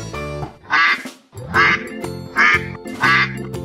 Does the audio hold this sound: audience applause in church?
no